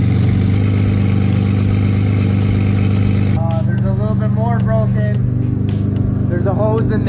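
A car engine runs steadily during a rear-mounted aluminium radiator setup, with the coolant system being filled and a hose leaking; a constant low idle hum sits close by throughout, joined partway through by someone talking over it.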